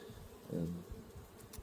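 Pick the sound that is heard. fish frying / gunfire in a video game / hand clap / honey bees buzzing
honey bees buzzing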